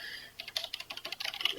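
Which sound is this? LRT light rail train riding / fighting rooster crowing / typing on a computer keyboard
typing on a computer keyboard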